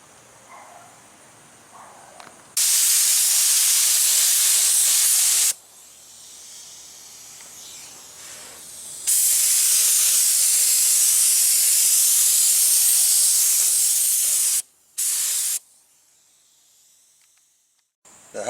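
Bursts of aerosol spray paint coat the brake booster in the engine bay of a third-generation Chevy Camaro IROC Z28, loud close hissing in long sustained passes separated by pauses, with a couple of short spurts near the end.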